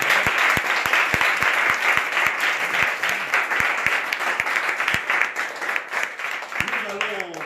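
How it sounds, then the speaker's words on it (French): Audience applause at a foundation event, with a dense wash of clapping running steadily throughout and a few voices cheering over it near the end. "vous allez applaudir pour vous-même."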